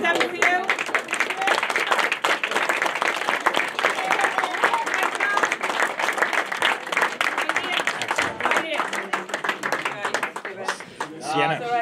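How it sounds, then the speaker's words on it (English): Applause from parents and players at a youth under-10 football club season presentation, honouring the coaches; sustained dense clapping runs throughout, with voices and some crowd chatter mixed in toward the end. "I think all the coaches need a round of applause for everything they've done for you"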